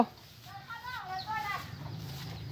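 A chicken clucks a few times near a cattle pen, short broken calls heard alongside people speaking and general farmyard noise.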